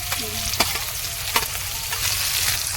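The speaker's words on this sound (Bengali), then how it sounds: "কড়াইতে তেল দিয়ে এবার লঙ্কা পেঁয়াজ দিয়ে দিল" Chili and onion frying in white oil in a wok, a loud steady sizzle with a few sharp scrapes of stirring cutting through, close and without talk.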